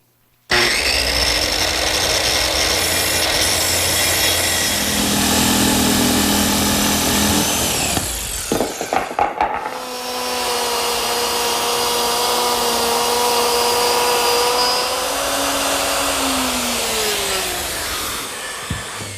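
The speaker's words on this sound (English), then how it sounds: "I want to cut the through hole a 1/2 inch to 3/8 of an inch smaller." A power tool cuts a through hole in a wooden router table top. The motor whines loud and close in two long runs, with a brief rattling break between them and a slowing whir at the end.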